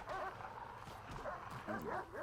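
Dogs barking in the Prison Architect video game, repeated yips and barks over a dense, busy in-game background.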